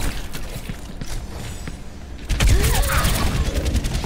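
Gunfire rattles in the shooter game Overwatch: scattered shots at first, then a louder, denser volley of rapid bursts with mechanical clatter in the second half.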